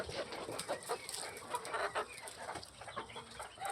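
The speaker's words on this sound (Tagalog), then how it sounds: "Ito daming manok, oh." Chickens cluck and chatter continuously on a farm, the calls overlapping at a moderate distance with a steady background hum.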